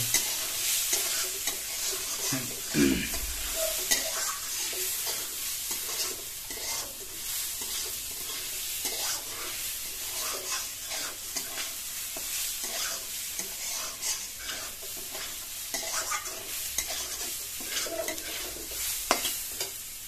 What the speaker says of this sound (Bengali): এখন এগুলো একটু ভালো করে একটু ভেজে নেবে।